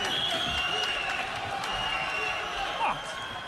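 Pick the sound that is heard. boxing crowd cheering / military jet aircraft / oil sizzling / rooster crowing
boxing crowd cheering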